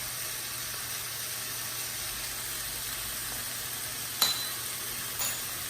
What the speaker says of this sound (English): Now I'm going to add the garlic in here.